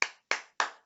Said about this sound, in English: Victor, you can hear the clapping in the background.